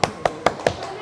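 A single person claps four times in a steady, close, crisp rhythm at a bakso and mie ayam stall, with no talk over the claps.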